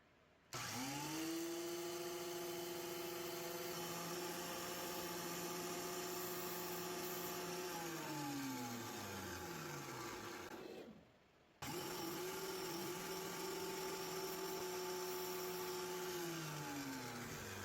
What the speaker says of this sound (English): I'm going to cut a bunch of slots in this board